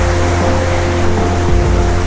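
Broad steady roar of a waterfall rushing, continuous and fairly loud throughout with no voices over it.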